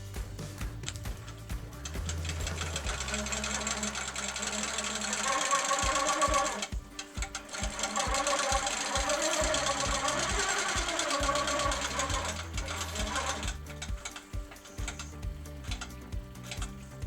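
Long arm quilting machine (Quilt Maker Pro 18) basting a placemat with channel locks, a fast steady needle chatter running almost continuously, with brief pauses and changes in pace.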